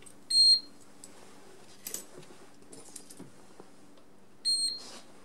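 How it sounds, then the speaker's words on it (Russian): A PR-100i access controller gives two short electronic beeps when a key fob is presented, one near the start and one near the end, with quiet handling clicks in between. "Видимо, когда второй раз подносишь, оно два раза пищит."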